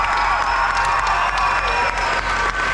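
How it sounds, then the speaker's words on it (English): Audience applause mixed with cheering and shouts at an outdoor Irish dance festival in Dublin, a dense, steady roar of clapping throughout. "Will you give one more big round of applause to our friends, the Gardner brothers"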